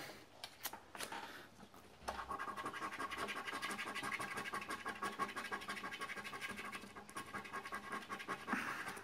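Steady rough scratching of a coin over a scratch card, continuous and close, with brief pauses and a few sharper scrapes near the end.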